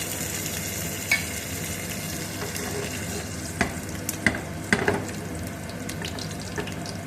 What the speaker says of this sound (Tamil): அது பட்டை சோம்புலாம் பொரிஞ்சிருச்சு